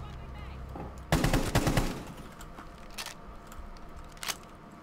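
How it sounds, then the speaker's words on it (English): Gunfire in the online shooter Rainbow Six Siege: a loud burst of rapid automatic shots lasting about a second, then a few scattered single shots, sounding somewhat distant. "Oh god, he's shooting at me."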